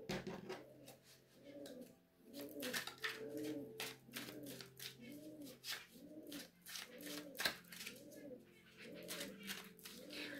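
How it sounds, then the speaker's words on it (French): A homing pigeon coos in a repeated rhythmic series of soft, throaty phrases close by, with faint clicks and rustling in the background. "J'ai un pigeon, là, c'est le pigeon voyageur, ça, il vient avec un message. Vous l'entendez roucouler, là?"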